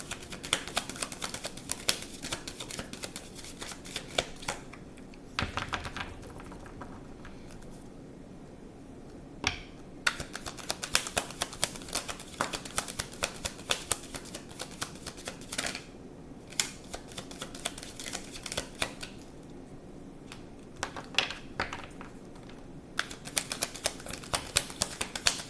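A deck of cards is shuffled again and again, giving bursts of rapid, crisp riffling clicks broken by short pauses. The sound is close and moderately loud throughout, with no talking.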